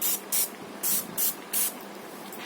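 A handheld sprayer mists solution onto paper journal pages in a series of five short, sharp hissing bursts separated by brief pauses, close and clear.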